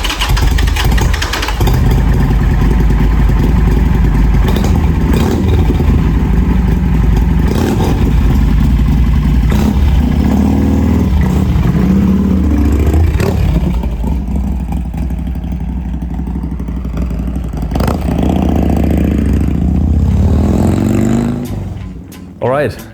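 A 2002 Harley-Davidson Sportster 883 XLH with about 16,000 miles idles and revs nearby, a loud, throbbing low rumble that rises and falls over several throttle blips and ends abruptly.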